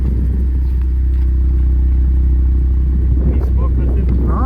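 An Audi TT RS five-cylinder engine idling just after a cold start, a loud steady low rumble with a slight clattery edge, close by, briefly joined by light handling noises near the end.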